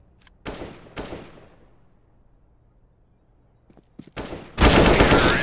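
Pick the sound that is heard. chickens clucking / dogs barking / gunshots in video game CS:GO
gunshots in video game CS:GO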